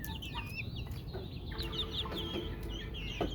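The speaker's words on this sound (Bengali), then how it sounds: "এই যে দেখতে পাচ্ছেন মুরগিগুলা কত সুন্দর আমার কাছে আসতেছে" Several free-roaming backyard chickens cluck and chatter close by at night, repeated short calls scattered over a steady low background hum, no talking.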